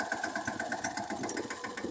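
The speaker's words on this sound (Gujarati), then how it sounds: "જો હાલતું કરે છે ટ્રેક્ટર." A tractor engine running as the tractor pulls away, a low pulsing throb with a regular chugging beat, moderately near but fairly quiet, with no talk over it.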